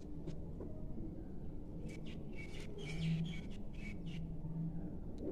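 A black breeding pair of pigeons, male and female, gives soft low calls and faint chirps in a loft, repeated in short bursts over a steady background hum.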